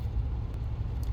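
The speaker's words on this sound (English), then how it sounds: "And as the car is idling, you're sitting around and you're sitting there waiting for traffic to go," A 1971 Cadillac Coupe DeVille engine idles while stopped at a red light, giving a steady, deep, low rumble heard close by and alone, with no voices.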